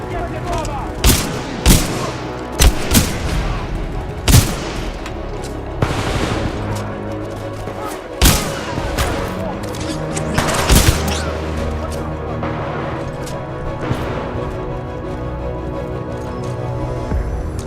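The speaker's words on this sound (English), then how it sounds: "Commencing supporting fire." Titanfall 2 battle with loud bursts of supporting gunfire and heavy explosions, sharp blasts at irregular intervals over sustained automatic fire and rumbling booms, while voices speak intermittently.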